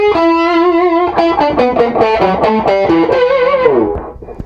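Telecaster electric guitar through a fuzz distortion pedal with the gain turned all the way up: a held chord, then a quick run of loud, thick, saturated notes that fades away at the end.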